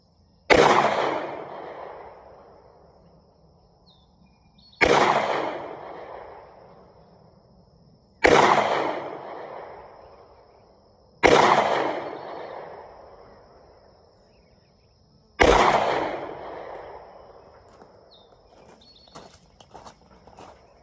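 Five sharp, loud pistol shots from a packing pistol, fired outdoors at a card target on the trail, spaced several seconds apart, each with a ringing decay and echo.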